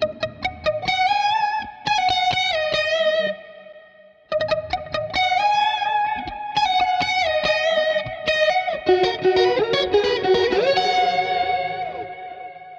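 A clean electric guitar run through a chorus effect in Bias FX2 plays chords and arpeggiated notes with a shimmering, slightly wavering tone, close and alone, with brief pauses between phrases.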